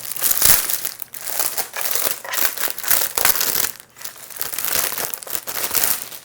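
Plastic wrap crinkles and rustles in bursts close up as it covers a mechanical keyboard, irregular crackling handling noises with short pauses between.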